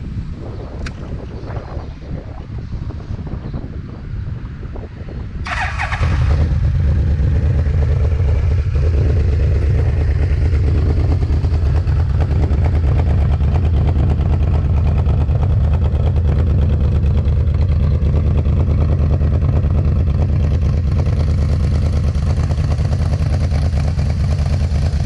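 Yamaha VMAX 1200 motorcycle engine with a modified exhaust starts up around the five-second mark, then idles with a steady, loud low rumble close by, after some quiet handling noise.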